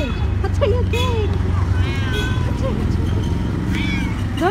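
Hungry stray cats meow repeatedly at close range, several overlapping cries against a steady background of outdoor noise and traffic, while people talk to them.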